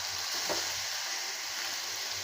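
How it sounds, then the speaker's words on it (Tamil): Raw mango pieces fry in oil for pickle, giving a steady close sizzle and crackle with a brief stirring scrape partway through. "நல்லா பொரியுது."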